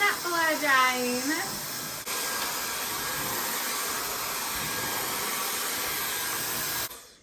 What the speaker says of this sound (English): it's almost done blow drying